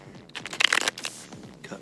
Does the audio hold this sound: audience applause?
no